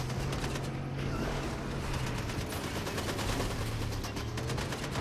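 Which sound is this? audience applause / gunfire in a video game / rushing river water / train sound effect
gunfire in a video game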